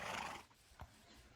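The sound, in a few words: horse neighing in a video game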